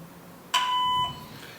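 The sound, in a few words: voicemail beep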